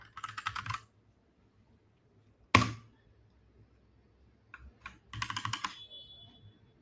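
Someone types on a computer keyboard in short close bursts of rapid clicks, then a single loud clack, a pause, and another flurry of keystrokes.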